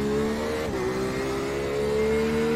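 A 2021 Porsche RSR race car engine at Daytona in a racing simulator holds a steady, loud mid-pitched drone with a brief dip in tone, then sustains evenly without any voices.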